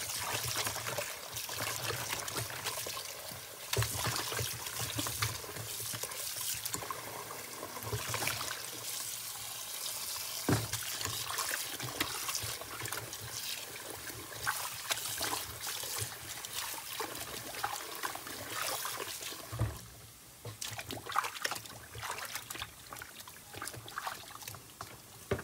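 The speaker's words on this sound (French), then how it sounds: "Il faudra laver notre poisson bien comme il faut." Steady running water splashes and trickles continuously while fish are rinsed clean in a kitchen, with occasional clatter and handling noises mixed in.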